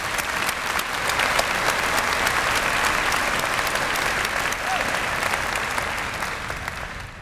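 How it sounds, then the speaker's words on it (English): A large audience at a University of Waterloo science convocation applauds the graduating class, a sustained dense wash of clapping from many hands that swells early and slowly fades toward the end. "shout out a big congratulations to the graduating class, and a round of applause"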